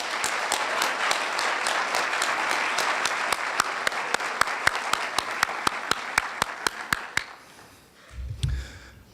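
A crowd at a school scholarship and academic awards assembly applauds steadily for about seven seconds, with sharp individual claps standing out near the end before the clapping stops and a low rumble follows.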